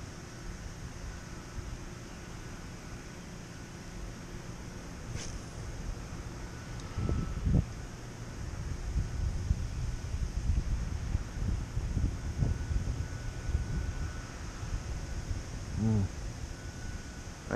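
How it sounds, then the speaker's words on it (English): Steady wind blowing over an open lake rumbles across the microphone throughout, a broad low buffeting noise with gusts swelling in the middle, and a few faint knocks and rustles beneath it. "We definitely got some wind out there."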